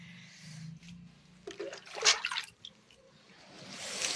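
Water is poured over the body during a cold bath, with splashes and trickling bursts that rise and fall close by, then a longer pour building at the end.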